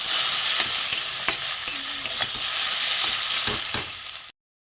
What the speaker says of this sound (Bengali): পটলের ভিতরে যে শাঁসটা ছিল বের করে রেখেছিলাম, ওইটা আমি ডিমের সাথে ভেজে নেব।